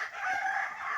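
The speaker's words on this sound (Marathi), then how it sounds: "कोंबडी आहेत का, हे पक्षी आहेत का" A desi village rooster crows in a short, sustained call, close and clear, with no talk over it.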